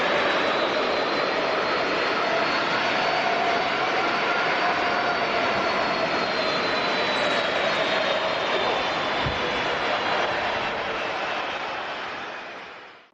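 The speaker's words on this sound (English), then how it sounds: "this Alitalia MD-11 almost missed the runway when landing at famous Kaitak Airport" An Alitalia MD-11 jet landing at Kai Tak Airport gives a loud, sustained engine roar and broadband rush that holds steady for most of the pass, then fades out over the last couple of seconds.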